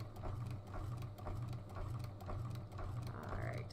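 A sewing machine stitching a fabric circle skirt for a cosplay costume runs steadily up close, with a fast, even mechanical chatter of needle strokes and a low motor hum throughout.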